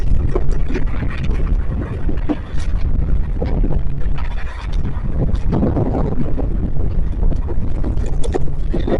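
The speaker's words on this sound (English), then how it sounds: "It's very windy." Strong wind buffets the microphone outdoors, a constant low rumbling roar with gusty bursts throughout, loud and close, with no talk over it.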